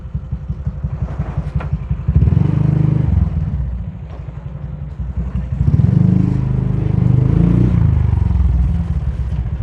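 A motorcycle engine idles at a house in Indonesia with a rapid, even putter, then twice revs up into a louder, rougher roar before easing back down, close by and with no talk over it.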